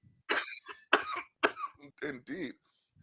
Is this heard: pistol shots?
no